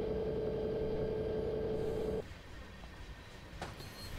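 Freight train rolling in a train simulator on a Granger Heartland route, a steady low rumble with a tonal whine that cuts off midway, leaving a quieter rolling hum and a brief clank.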